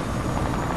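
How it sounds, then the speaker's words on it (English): A helicopter in the video game Fortnite, a steady loud rotor roar and whirring drone filling the whole moment without a break or voices. "Okay, I'm just gonna leave him with the chopper."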